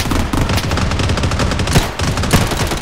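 A loud, dense burst of rapid gunfire from a video game battle near an enemy sniper, continuous crackling shots lasting nearly three seconds with no talk.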